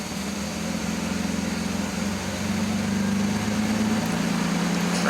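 An old car engine idles steadily nearby, a low, even rumble with a constant hum that holds its pace throughout.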